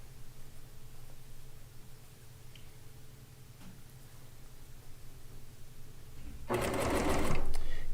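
A sewing machine piecing quilt blocks with 50-weight Aurifil thread hums with a quiet rapid ticking, then bursts into a louder close whir of stitching near the end.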